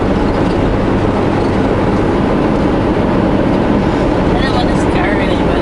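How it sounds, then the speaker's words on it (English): A train passes near Highway 1 heading west out of Kamloops, heard from inside a moving vehicle as a steady, dense rumble and rushing noise with faint voices underneath. "Yeah, I see another train down there."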